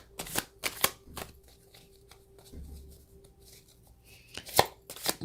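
Tarot cards are shuffled and drawn by hand at close range: brisk riffles and slaps come in short bursts, separated by quieter handling.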